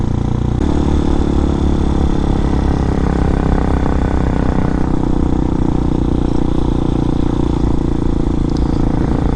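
A 2019 RPS Hawk DLX 250 motorcycle rides along back roads and trails, its engine a steady, close, continuous mid-pitched drone with low rumble and some clatter, no talking.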